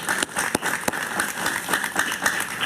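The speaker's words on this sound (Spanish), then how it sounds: "Un aplauso para Reinaldo, por favor." Studio audience clapping on a Spanish-language evening talk show, a steady dense patter with a few sharp louder claps standing out, close and moderately loud.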